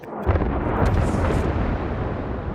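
Des Moines cruiser's naval guns firing armor-piercing shells in World of Warships, a loud booming blast that rolls into a long, dense rumble.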